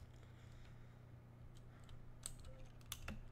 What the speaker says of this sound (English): You may have noticed the clicking. I'm using my old keyboard